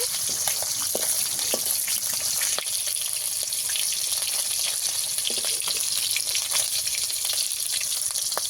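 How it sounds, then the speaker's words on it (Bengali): Small freshly caught pond fish fry in oil, a dense, continuous hissing sizzle with scattered crackles and pops, close and steady throughout. "মাছগুলো ভালো করে ভেজে নেব একটু"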